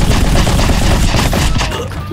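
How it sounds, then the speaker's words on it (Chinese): Rapid, loud gunfire bursts erupt in the video game Rocketbirds: Hardboiled Chicken, a dense fusillade of booming shots and thuds that continues almost without a break. "狂开狂开枪就对了。"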